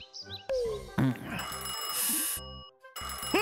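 A telephone bell rings in short repeated bursts amid a busy cartoon comedy soundtrack, sharing the track with bright chirpy effects and a voice calling out.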